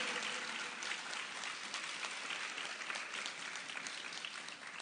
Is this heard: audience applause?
yes